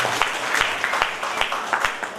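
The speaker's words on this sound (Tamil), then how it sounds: "கைத்தட்டு சரியில்லையே." An audience claps briefly at a training course certificate ceremony, a thin scattered round of applause with distinct individual claps, fairly close.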